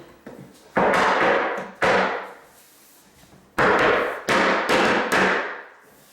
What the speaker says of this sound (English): we take the mallet and then we make sure we tap the dowels all the way in